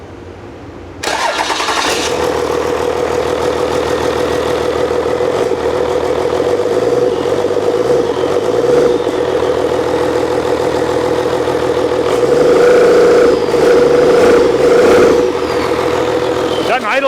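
A 12V Cummins diesel, first start in years, cranks and catches after a second of quiet, then settles into a loud, steady, rough idle with a brief rise in revs near the end.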